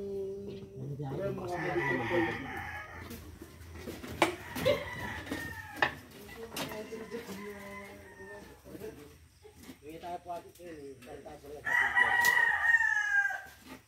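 A rooster crows loudly several times, its long drawn-out calls rising clearly above background noise, with a final strong crow near the end.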